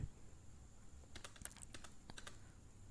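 Quiet typing on a computer keyboard while entering order details in accounting software: a run of light, irregular key clicks, faint and close, with no voices.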